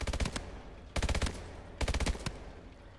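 Automatic gunfire from the Advanced Warfare Exo Zombies video game, three loud rapid bursts of shots with short pauses between them.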